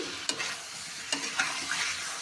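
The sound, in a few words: potatoes being stir-fried (kashano) in a pan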